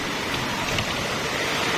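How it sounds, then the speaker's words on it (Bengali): Steady rain hisses outdoors, a dense wash of drops with no voices. "চলো বাইরে দেখি কিরকম বৃষ্টি হচ্ছে, ভালো লাগে বৃষ্টি। এটা আওয়াজ দেখেছো?"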